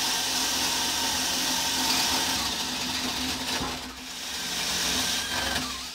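A DeWalt DCD999 cordless hammer drill in first gear at about 550 rpm bores with a 28 mm bit, giving a steady, loud grinding whir with a constant low hum that runs throughout, dipping briefly near the middle.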